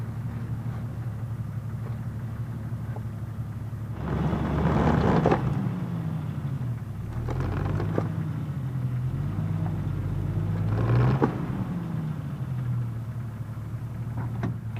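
A vehicle straining on traction boards pressed against its front wheel, its engine humming steadily and revving up in three louder surges as it tries to drive out.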